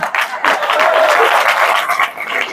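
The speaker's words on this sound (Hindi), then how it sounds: "तो ताली बजा ले" Audience applause at a motivational talk, steady dense clapping throughout at close range with no voices over it.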